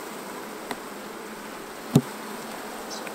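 Honeybees hum during a beginner's hive inspection, a faint steady drone running throughout, broken by a couple of brief knocks or clicks near the hive.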